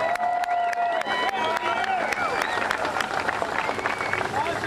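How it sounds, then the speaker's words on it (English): Crowd applause at an outdoor ceremony in Gore Park honoring the Hamilton Bulldogs, dense continuous clapping mixed with cheers and voices, loud and sustained throughout. "So let's give a round of applause to those guys."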